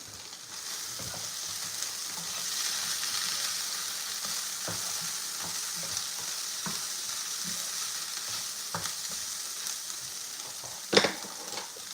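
Onions and grated garlic frying in oil in a pan, a steady close sizzle throughout with occasional stirring scrapes and a sharper clack near the end.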